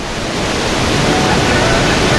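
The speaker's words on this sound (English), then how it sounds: "We're at the top of the Nevada Falls" Nevada Fall in Yosemite roars as a loud, steady wall of rushing water heard from the top of the falls, dense and unbroken throughout, with some wind buffeting.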